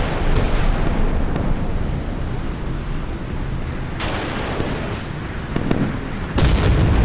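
Warship blowing up in a naval combat video game, a loud rumbling blast sustained throughout with sharp bursts near the end, no voices.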